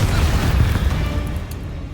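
A Confringo spell explodes in Hogwarts Legacy, a loud, close, deep boom that rumbles and slowly fades over about two seconds.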